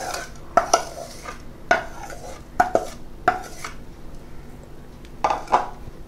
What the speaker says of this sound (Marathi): आता ह्या गुळाला सुद्धा आपण व्यवस्थित मिक्स करून घेऊया।